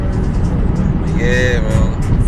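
Wind roars through the open sunroof of a moving Lexus GS430, a heavy, continuous low rumble with a brief tonal whine partway through.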